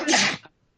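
A single short sneeze bursts out close to the microphone during a casual podcast recording, sharp and breathy, then quickly fading to quiet.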